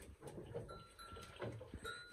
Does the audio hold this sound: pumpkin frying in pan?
no